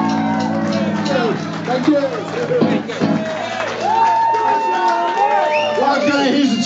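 An audience at a 2 Tone concert cheers and whoops, a loud, dense crowd swell with shouts and scattered voices that holds steady from start to finish.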